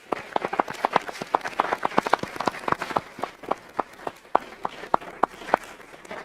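An audience at a Georgetown County Council meeting claps for an employee of the quarter, a sparse, fairly close round of individual hand claps rising and falling in uneven rhythm.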